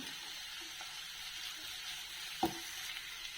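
Onions and ginger-garlic paste fry quietly in a pan, a soft steady sizzle with one brief utensil tap partway through; no one speaks.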